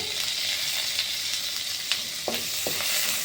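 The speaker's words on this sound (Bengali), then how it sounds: "এবার সম্বার দিচ্ছি তেজপাতা আর এই দুটোটা জিরা" Bay leaf, cumin seeds and grated ginger sizzle and spit in hot oil, a steady close crackling hiss with a few light stirring taps.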